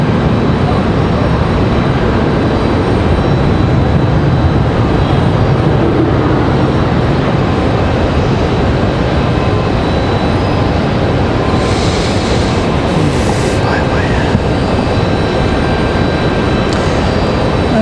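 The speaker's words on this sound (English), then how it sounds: "American 737 touching down" An American Airlines Boeing 737 touches down at Raleigh-Durham International on a flight from Los Angeles, making a sustained loud rumbling roar that stays fairly even throughout, with faint brief noises later on.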